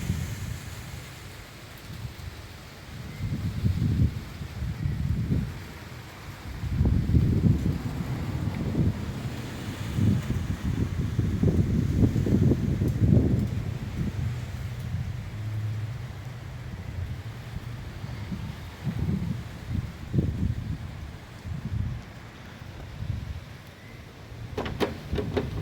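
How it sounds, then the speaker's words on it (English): Strong gusts buffet the microphone on a very windy day, a rough roaring rumble that swells and fades in waves without pause. "So windy."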